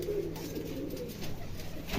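A pair of color-matched Rajshahi Giribaz pigeons coo steadily and close by, a low, continuous throaty rumble that runs without a break through the whole moment.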